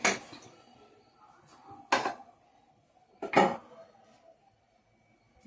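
Metal cookware clatters against a stovetop in a kitchen, three separate clanks and knocks about a second apart, close and fairly quiet with no voices.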